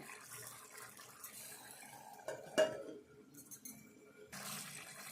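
Egg curry stirred in a cooking pot, with a few soft scrapes and clinks of a spoon against the pot, quiet and close, with no talking.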